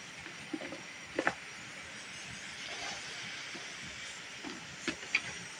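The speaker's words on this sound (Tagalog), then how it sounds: "Pagkaraan ng ilang minuto, kumukulo na siya." A covered pot of water with mushrooms at a full boil on a rural home stove gives a steady, soft hiss and bubble, with faint clicks and light knocks scattered throughout.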